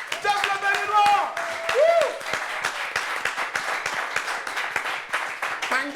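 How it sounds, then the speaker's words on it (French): Audience applauding loudly at a televised variety show gathering, steady dense clapping throughout with a whoop or cheer and some voices and music tones over it. "On va applaudir très fort, s'il vous plaît, pour Jeff le Béninois"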